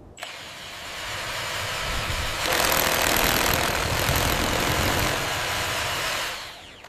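A powerful drill takes a core sample from an exposed rock layer, starting up and grinding continuously, growing louder and harsher midway before winding down at the end.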